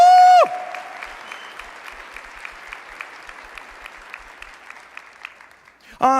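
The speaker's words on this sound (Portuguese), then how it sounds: "Pode aplaudir, pode aplaudir, pode aplaudir." Applause from an audience at a spiritual talk, a moderate, even patter of many hands clapping, bracketed by brief loud tonal sounds at the very start and end.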